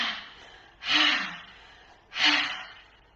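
Two deep, airy inhalations during a yoga moon salutation, each swelling for about half a second before fading, close and fairly soft, with no talking.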